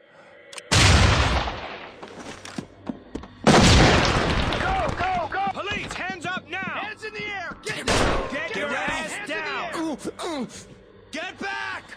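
Flashbang grenades detonate in the SWAT 4 video game, two loud sharp booms a few seconds apart with ringing decay, followed by shouted voices and further clatter and bangs.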